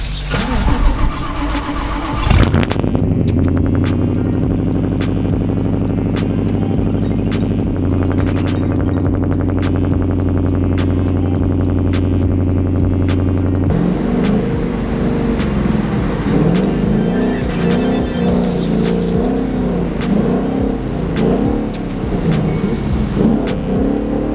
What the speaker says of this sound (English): It's definitely about to be one interesting cold start for sure.